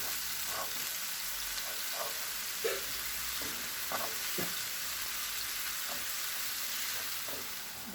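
Ginger garlic paste sizzles with onion in oil on a tawa while a spoon stirs it, a steady hiss broken by irregular scraping clicks, close up and without speech.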